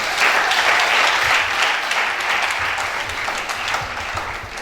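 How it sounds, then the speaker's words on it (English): Sustained audience applause fills a university faculty lecture hall for the Faculty of Science Laboratory Technology, steady and dense throughout, slowly tapering toward the end with no voices over it. "A round of applause, please."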